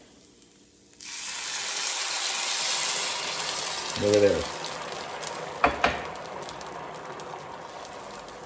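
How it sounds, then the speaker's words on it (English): Water hits hot, clumping rice in a pan for chicken and shrimp rice frittatas, bursting into a loud, steady sizzle that hisses on for several seconds. A few brief clanks and knocks break through, and a voice speaks briefly. "So let's get the water in."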